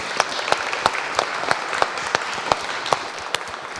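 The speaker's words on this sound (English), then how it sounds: "A round of applause for Elena." Audience applause closing out the final speaker of the day at the LibertyBits 2018 conference, a steady clapping crowd with scattered sharper claps, moderately near and heard on its own without speech.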